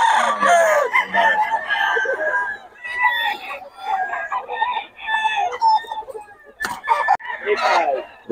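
A bull stag rooster crows repeatedly at a busy gamefowl market in Bocaue before dawn, its strained cock-a-doodle-doo calls rising over chatter and clucking from nearby birds.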